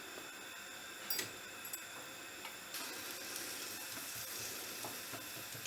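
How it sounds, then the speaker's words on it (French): Onions sautéing in olive oil in a heating frying pan, a faint steady hiss that grows slightly fuller midway, with a couple of light utensil taps early on. "On va faire revenir un peu les oignons."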